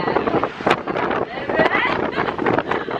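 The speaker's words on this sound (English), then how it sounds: "It's really windy." Strong wind buffets and roars across the microphone in uneven gusts aboard a swaying Disney World Skyliner gondola, loud and close, with faint voices underneath.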